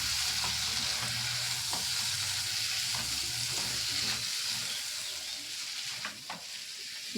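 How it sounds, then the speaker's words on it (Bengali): Raw mango pieces sauté with spices in a few spoons of oil for an egg curry, a steady, soft sizzle with repeated scraping and stirring strokes of a spatula, close and quiet, with no talk. "মশলার সঙ্গে আমগুলোকে ভালো করে কষিয়ে"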